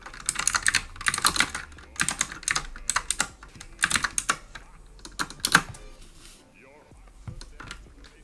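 Computer keyboard keys tapped in quick bursts of clicks with short pauses between words, close and fairly crisp, while a Canva holiday flyer is being designed.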